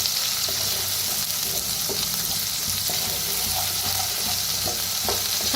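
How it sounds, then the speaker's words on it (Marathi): Bitter gourd sizzles in a hot pan with a dal and curry leaf tempering, giving a steady, close frying hiss broken by occasional soft stirring clicks and scrapes. "आता छान भाजून घेऊया"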